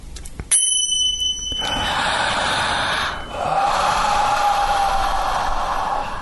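Little chimes ring with a bright, sharp metallic strike that sustains briefly before decaying, followed by a softer, breathy wash and a faint lingering tone.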